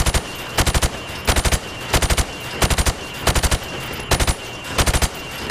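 Rifle fire at pop-up targets in Call of Duty: Modern Warfare Remastered, loud, sharp shots in quick bursts of two or three, repeating at a steady pace with short gaps between.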